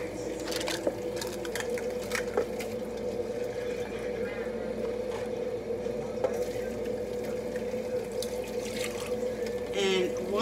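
One cup of water is poured into cake batter in a home kitchen, a steady running, splashing flow lasting throughout with faint background clatter.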